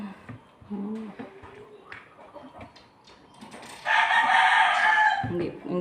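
A rooster crows loudly and close by in a rural yard, one long sustained call near the end, with chickens clucking and a voice speaking softly earlier.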